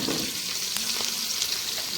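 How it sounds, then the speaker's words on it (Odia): Sliced onion frying in hot oil at an outdoor picnic cook-up in a forest, making a steady, close sizzle with some stirring scrapes and no talking. "ପିଆଜ ପଡ଼ିଲା।"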